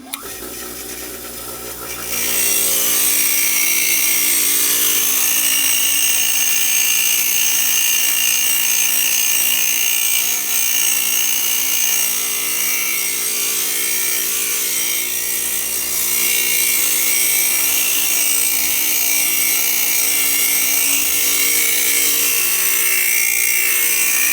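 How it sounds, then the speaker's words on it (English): A coarse wire brush spinning at several thousand RPM strips rust from metal, a steady loud whirring rasp that kicks in after about two seconds and grinds on continuously, close up, with no talking. "This is a coarse wire brush, moving at several thousand RPM."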